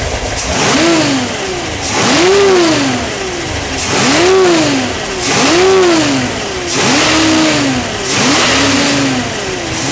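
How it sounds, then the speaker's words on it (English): A supercharged 540 big-block Chevy V8 with a small cam revs hard about five times in a steady rhythm, each throttle blip rising and falling, with a high supercharger whine riding over the roar. "Whine that the camera may be picking up is the supercharger."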